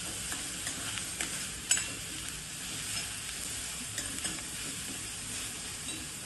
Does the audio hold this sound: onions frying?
yes